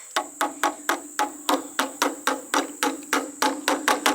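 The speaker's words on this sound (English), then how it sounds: "I'm going to have to get my little hammer here" Steady metallic hammer strikes on a metal fuel safety can, about four per second, ringing with a high bright overtone, close up and evenly paced.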